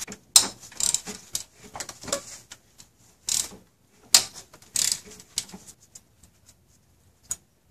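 Metal clicks and ratcheting from work on a small shield on a Toyota 5VZ-FE engine, sharp irregular bursts of tool clatter separated by quiet gaps, close by.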